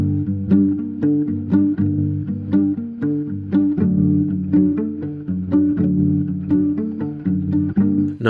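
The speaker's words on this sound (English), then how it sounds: "And the guitar themselves, they sound like this." Two lo-fi indie guitars panned apart play a steady strummed chord progression, rhythmic plucks ringing out clearly and fairly loud with no voices.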